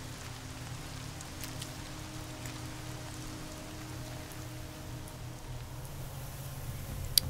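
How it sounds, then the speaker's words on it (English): Heavy rain falls in the video game Horizon Zero Dawn, a continuous soft, even patter and hiss with no pauses, fairly quiet and alone, with one faint tick near the end. "it's raining pretty hard"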